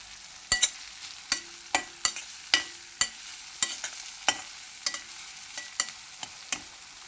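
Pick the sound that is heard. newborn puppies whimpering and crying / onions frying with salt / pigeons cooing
onions frying with salt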